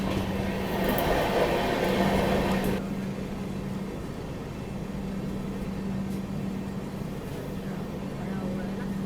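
Interior rumble of Indian Railways train 20155 from Dr Ambedkar Nagar to New Delhi, running through Rajasthan near Bhawani Mandi, a steady broadband roar with a constant low hum, louder for the first few seconds and then settling to an even drone, with no talk.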